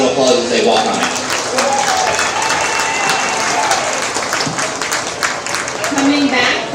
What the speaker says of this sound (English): Let's give all of them a round of applause as they walk on out.